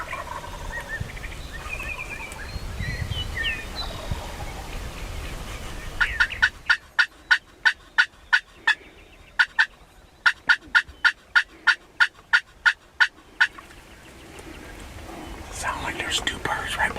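Wild turkeys gobbling in a bean field: a rapid run of sharp, evenly spaced gobbling pulses stands out over a quiet outdoor background with faint whispered talk before and after.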